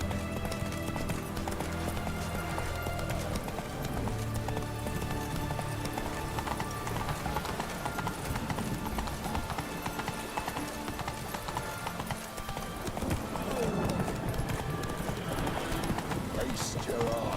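Hooves of a horse galloping in The Witcher 3: Heart of Stone, a steady rapid clip-clop running throughout amid game ambience, with someone talking over it.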